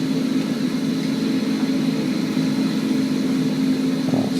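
Engine drone of Italian MC-50 early-war warplanes in a flight combat game, a steady, continuous low hum with a constant pitch throughout, loud and unbroken.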